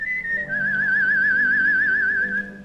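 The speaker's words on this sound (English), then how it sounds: "Roy Thorison, the whistling brakeman of the Canadian Pacific Railroad." A single sustained whistled tone with a steady warbling vibrato, clear and close, held for a couple of seconds without speech.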